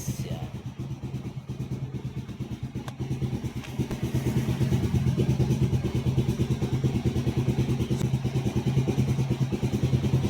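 A Rouser NS 160 motorcycle with a hard-shifting, miss-shifting gearbox runs in a steady rapid putter, growing louder and fuller after a few seconds and then holding an even, close idle.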